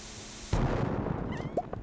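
A cherry bomb goes off in the Stardew Valley video game: a single loud, abrupt blast that cuts in sharply, followed by a short rumbling decay and a few small chiming game effects.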